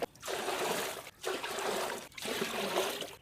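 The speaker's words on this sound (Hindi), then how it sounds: "तो आज भी 3-3 जग जो है वो पानी डालेंगे।" Water pouring steadily into jugs for homemade popsicles in a village, a continuous trickling splash in three bursts separated by brief pauses, close and fairly loud.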